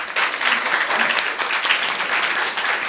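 Broad, continuous applause from an audience cheering musicians at a cultural music event, a thick wash of many hands clapping that holds steady throughout.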